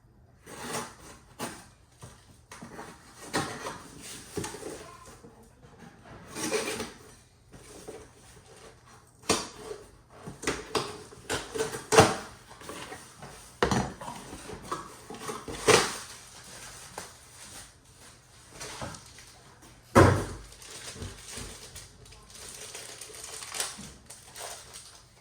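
Headphones being unboxed from retail packaging with a knife, with irregular cardboard and plastic rustles, scrapes and sharp clicks, some louder snaps, close up and mostly without talk.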